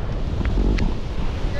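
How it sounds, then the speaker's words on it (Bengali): Sea waves and strong wind on Digha beach, a steady broadband roar of surf with gusting wind buffeting the microphone throughout, loud and close, with brief voice-like bursts. "এখন ঢেউ কিন্তু গায় সেই লেভেলের আছে, আর হাওয়াও দিচ্ছে বিভস্ত পরিমাণে।"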